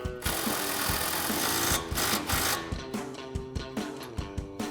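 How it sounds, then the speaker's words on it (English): Impact wrench with a 19mm socket tightening a sway bar link nut on a Mustang coil-over install, a loud whirring rattle followed by a quick run of evenly spaced hammering knocks, close up. "Grab our impact and 19mm socket and tighten that down."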